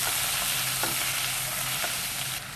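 Shrimp sautéing in a hot pan, a loud continuous broadband sizzle with a few brief stirring scrapes, close by and without talk until the sizzle drops slightly near the end.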